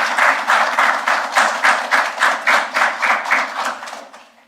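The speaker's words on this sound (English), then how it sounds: "Can we have a round of applause for our new ministers?" An audience gives a round of applause for newly sworn-in ministers at a government ceremony, loud, pulsing clapping that fades out at the end.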